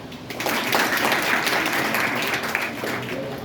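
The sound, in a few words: audience clapping on cue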